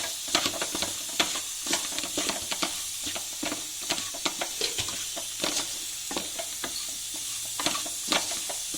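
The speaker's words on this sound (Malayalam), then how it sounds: "നല്ല രീതിയിൽ ഒന്ന് മിക്സ് കൊടുക്കണേ ഇനി നമുക്ക് ഈ മസാലയൊക്കെ ഒന്ന് മൂത്ത് വരുന്നിടം വരെ നമുക്കൊന്ന് വെയിറ്റ് ചെയ്യാവേ" Spice masala of turmeric and coriander powder fried and stirred in a pan for a potty fry, with constant close sizzling and hissing broken by rapid scraping and clacking spoon strokes.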